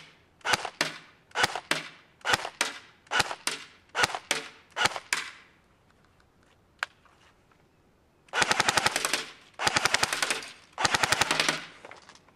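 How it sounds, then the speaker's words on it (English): CYMA AK74 airsoft rifle firing at a target about 100 feet away: several short bursts in quick succession, then a pause and three longer full-auto strings, loud and close with sharp mechanical rattling. "we're going to shoot at a target"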